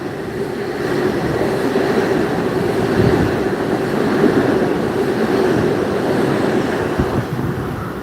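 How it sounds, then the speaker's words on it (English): A train rolling through Penn Station, a loud continuous rumble and rattle of wheels on track with a faint squeal, steady throughout with no talking. "there's a train, but it's not Penn Station, I don't think"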